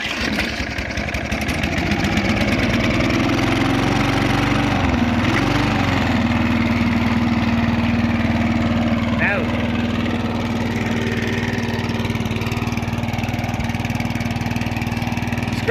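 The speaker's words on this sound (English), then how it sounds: "Great to hear her going again." A restored lawn mower engine, freshly primed, starts and settles into a loud, steady running drone that continues throughout, with a brief pitch change early on and voices audible faintly over the motor.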